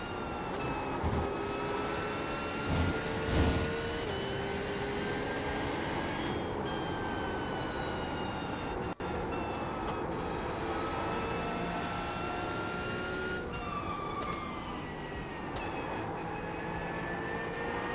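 A car's catback exhaust system drones steadily and loudly at close range with a continuous engine hum, a few brief louder bursts early on and a sharp click near the middle.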